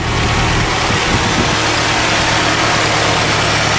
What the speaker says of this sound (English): Runs like brand new. What a sweet old motor.